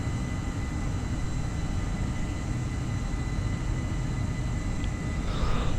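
An Airbus A318 climbing in Microsoft Flight Simulator gives a steady loud cabin engine drone with a broad rumble and faint tonal whine, constant throughout with no speech.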